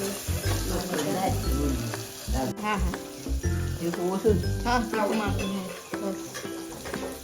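Mustard seeds and cumin frying in hot oil crackle and sizzle steadily, with scattered pops and clinks of a utensil against the pan; a voice talks intermittently over the cooking.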